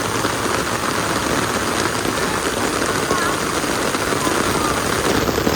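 Heavy rain pours down outdoors in a steady, dense hiss, loud and constant throughout, with no break in the downpour.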